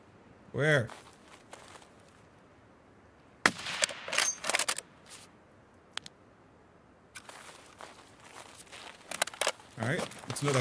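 Rifle gunshots and a headshot in the Escape From Tarkov video game: one sharp crack at the start, later several clusters of bursts and rustling footstep-like noises, with quiet gaps between.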